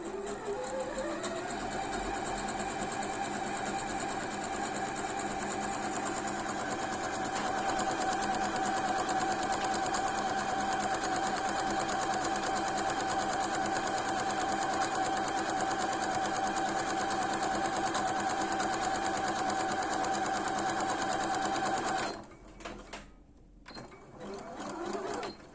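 An Usha Janome Sew Magic computerized sewing machine runs close by, a fast, steady mechanical whir of stitching held for about twenty seconds before it stops into quieter handling noise.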